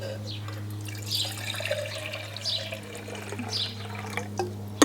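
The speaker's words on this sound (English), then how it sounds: "And I'm gonna fill this with my emergency water." Water trickles and splashes faintly into a small pot set on an alcohol camping stove, light uneven pouring against a constant low hum in the background.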